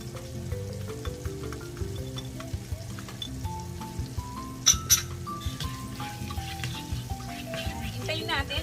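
Garlic sizzles in melted butter in a pan with a steady, close crackling fry, a couple of sharp clinks midway, and faint background music running underneath.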